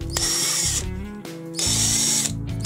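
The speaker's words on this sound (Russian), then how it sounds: "как просверлить отверстие и не переусердствовать, не просверлить насквозь брусок" A power drill whirs loudly in two bursts, its pitch dropping as the bit bites into a wooden block, with a brief pause between.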